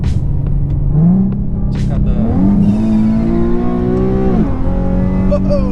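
A 2012 Infiniti with a six-speed manual and a Vortech supercharger accelerates hard, its engine droning and rising in pitch through a gear change, heard loud from inside the car under a steady rumble.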